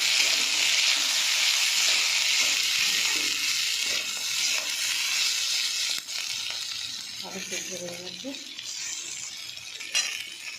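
Beans and potatoes frying in a pan give off a steady, close sizzle and hiss that runs the whole time, with occasional stirring scrapes.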